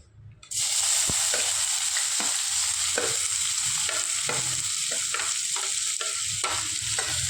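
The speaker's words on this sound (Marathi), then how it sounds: "त्यात उभा चिरलेला कांदा घालते मी." Sliced onion drops into hot oil in a wide pan for crab masala, bursting into a loud, sustained sizzle, with light stirring scrapes and taps over the constant frying hiss.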